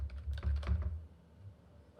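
Computer keyboard typing in short bursts of key clicks for about a second, fairly close, then fading to quiet room tone; no talking.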